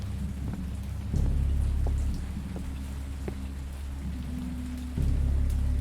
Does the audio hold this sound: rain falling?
yes